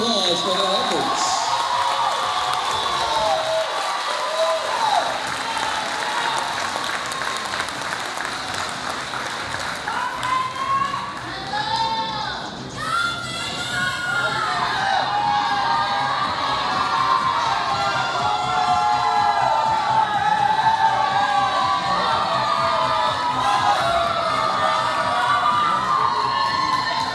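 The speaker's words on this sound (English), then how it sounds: "Let's give them a huge round of applause for their efforts." A crowd at a Miss Earth Guam pageant coronation applauds and cheers for contestants, with whoops and shouts over sustained clapping, a brief dip midway, and voices mingled in the noise.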